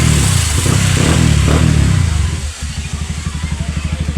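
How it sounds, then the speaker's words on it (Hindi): A Yamaha R15 V3 motorcycle, repaired after its engine seized, is started up close by. A loud rev settles into a rapid, even idle with a steady pulsing beat. No one speaks. "तो ये देख लो गाइज फाइनली अपनी बाइक चालू हो चुकी है पूरी।"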